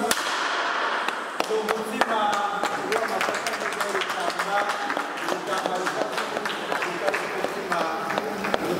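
Guests at a wedding celebration applaud steadily, dense crisp claps running throughout at moderate loudness beneath a voice speaking and singing over them.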